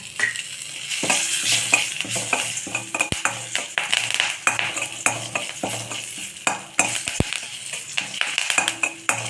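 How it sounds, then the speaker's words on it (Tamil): Oil sizzles and crackles steadily as curry leaves fry, with a spoon stirring and scraping against the pan now and then. "கருவேப்பிலை நல்லா பொரிஞ்சது"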